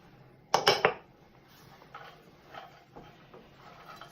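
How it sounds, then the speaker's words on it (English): Frozen peas, about a cup, tipped into a pan for egg fried rice, a sharp rattling clatter lasting under half a second, followed by faint scattered ticks and light clinks. "So this is your peas going in, your frozen peas"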